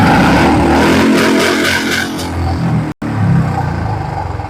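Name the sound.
2022 standard Bullet motorcycle engine revving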